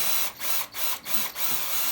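Electric drill fitted with a 7 mm bit, a continuous bright high-pitched whir broken by four short regular dips, close and without speech.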